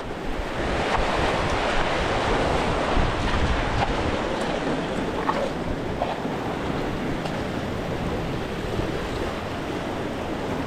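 Continuous roar of sea waves breaking and washing in, loud and steady throughout, with wind buffeting the microphone.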